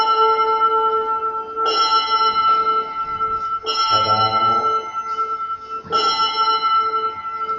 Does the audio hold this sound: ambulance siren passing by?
no